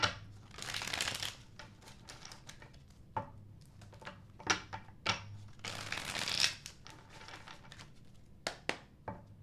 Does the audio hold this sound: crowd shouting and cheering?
no